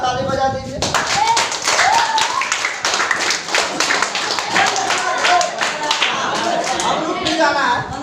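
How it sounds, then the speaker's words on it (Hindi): Audience at a business seminar clapping loudly and continuously, a dense sustained burst of claps with faint voices and cheers mixed underneath. "एक बार जोरदार ताली बजा दीजिए।"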